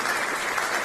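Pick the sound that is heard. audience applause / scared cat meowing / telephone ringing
audience applause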